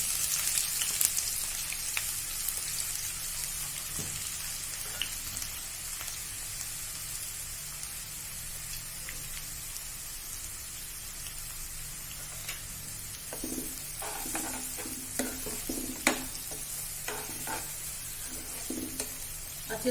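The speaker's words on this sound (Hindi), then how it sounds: "स्लाइस वाली प्याज हम इसमें फ्राई करने डाल देंगे।" Sliced onions fry in hot oil in a kadhai, a soft, fairly faint sizzle with light crackling pops that grow busier and sharper toward the end.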